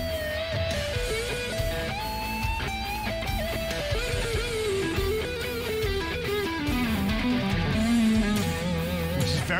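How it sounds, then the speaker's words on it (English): A guitar runs through a minor pentatonic scale, notes stepping quickly downward in a continuous phrase, clear and close with no talking. "which is our minor pentatonic scale, which sounds like this currently."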